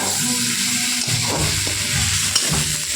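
Spice paste frying in a pan with a steady sizzle, while a spoon scrapes and stirs through it in irregular strokes close by.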